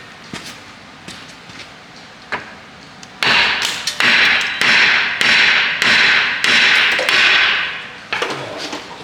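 Hammer striking metal during a GMT800 truck front-end kit install: a few scattered taps, then a run of loud, ringing metallic blows at a steady rhythm, close by, tapering to lighter knocks.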